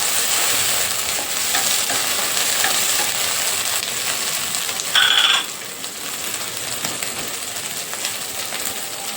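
Onion and garlic paste cooking in a pan for a dahi baigan brinjal curry, giving a continuous close sizzle with light stirring and a brief brighter clink partway through, without voices.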